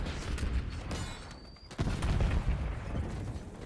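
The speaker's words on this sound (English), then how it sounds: "Flashbang out" A flashbang grenade goes off in a video game shooter amid sustained gunfire: dense, loud rumbling blasts, a brief dip, then another heavy burst of explosive noise.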